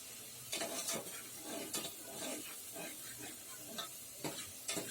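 Spices are sautéed in a pan for a black-eyed pea and potato bhaji, giving a faint, steady sizzle with periodic stirring scrapes and light knocks of a spoon, quiet and without speech.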